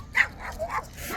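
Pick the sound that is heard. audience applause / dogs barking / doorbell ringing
dogs barking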